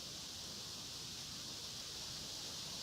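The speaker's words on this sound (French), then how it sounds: "Le bruit du vent dans les feuilles." Soft, constant hiss of wind moving through leaves, an even rustling wash with no distinct events, faint and unbroken.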